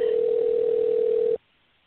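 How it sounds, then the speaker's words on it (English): A single steady telephone ring tone on a call to a person who isn't picking up, loud and continuous for over a second, then cutting off abruptly into silence. "Anyway, phone will ring."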